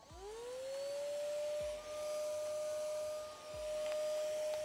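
A Xiaomi G20 Lite handheld car vacuum cleaner switches on and spins up into a steady, loud high whine with a constant airflow hiss, running alone without talk.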